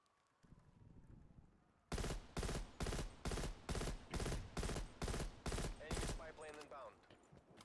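Rapid, loud M16 rifle fire in a video game, a steady string of about eleven evenly spaced heavy bursts after a quiet start, followed by brief mechanical rattles.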